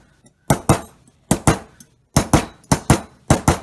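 A hammer strikes a sheet of metal to texture it, ringing sharp taps arriving in quick pairs and clusters with short pauses between, close and bright, no talking.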